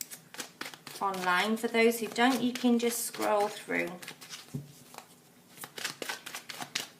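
Crisp riffling and soft slaps of tarot cards being shuffled run under steady talking, with a few faint flicks continuing as the voice pauses near the end.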